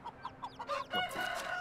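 Hens cluck in the medieval farming game Medieval Dynasty: a run of short, evenly spaced clucks, then a louder, drawn-out call with a crowing quality, all fairly near.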